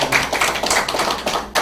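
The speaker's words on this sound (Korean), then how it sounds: "네, 박수." Small group clapping at a church gathering, a quick run of close, sharp hand claps in uneven rhythm lasting under two seconds, fairly loud with no talking.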